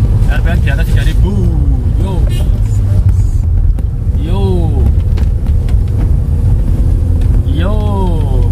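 A Wuling Confero car engine revs hard up a long uphill climb on a wet mountain road, a loud steady drone with rising whine sweeps, while someone talks over it throughout.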